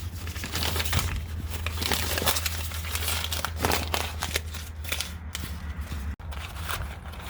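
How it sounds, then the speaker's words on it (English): A sheet of paper is crumpled up by hand, giving a continuous close, crackling crinkle for several seconds with no talk. "The next thing we do is we crumple it up."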